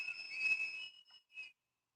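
Whistles blown at a street protest in Minneapolis, heard through played-back footage: a sustained shrill blast, then a short break and a brief second toot, fairly clear with no talk.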